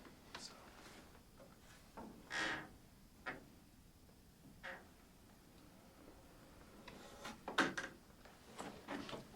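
An old door in an abandoned backwoods cabin in Haliburton gives a series of short, faint creaks and knocks, spaced irregularly, with quiet stretches between them.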